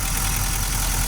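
A Nissan Titan XD diesel engine idles steadily up close, a deep even rumble with a light knocking pulse throughout.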